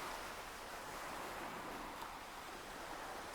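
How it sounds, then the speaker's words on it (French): Steady ocean surf washing in broad, continuous noise with gentle swells, no voices, heard evenly throughout at moderate level. "synchroniser quelques instants votre souffle avec les vagues de l'océan"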